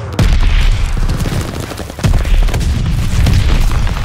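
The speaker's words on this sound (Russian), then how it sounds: "Союзники стреляют из миномета" Allied mortar fire in the World War II shooter Call of Duty Vanguard, loud booming blasts and rumbling impacts in quick succession close by, filling the short stretch without talk.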